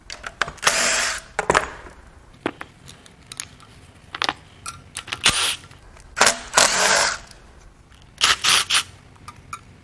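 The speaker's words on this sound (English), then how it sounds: "I'm just taking bolts out as I see them." A power tool runs in short, loud bursts while pulling bolts from a blown-up Cummins 6.7 turbo diesel engine during a teardown. The whirring spurts come in quick pairs and triples, separated by pauses.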